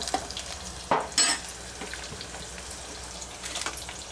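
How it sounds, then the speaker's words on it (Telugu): Curry leaves with chana dal and urad dal fry in a spoonful of oil, making a soft, faint sizzle. A few sharp utensil clinks and scrapes from stirring break in near the start and again toward the end. "కొంచెం కరివేపాకు అయితే బాగా ఫ్రై అయిపోయినాయి"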